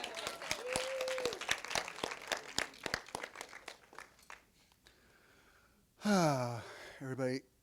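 A church congregation claps in a rapid, fairly regular pattern beneath ongoing talk; the clapping thins out and fades, then a voice and loud breathing sounds take over near the end.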